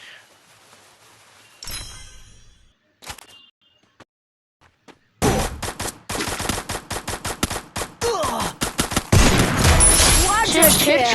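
Rapid bursts of gunfire from the Free Fire battle-royale game: a few scattered early shots, then dense, loud automatic fire from about five seconds onward, mixed with other game sounds.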